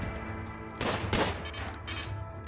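Exterior gun array firing in RimWorld: a few broad bursts of automated gunfire around the middle of the moment, heard over a steady background drone, with no talk.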